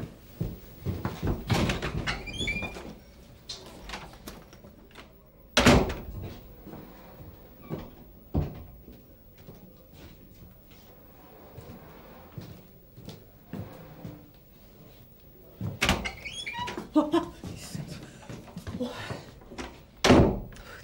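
A door in an indoor setting is opened and closed several times, giving loud thumps and latch clunks spread across the span, with rustling, movement noises and brief voices in between.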